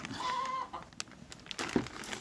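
A few close clucks and squawks from chickens, brief and irregular, with a short high tonal note near the start.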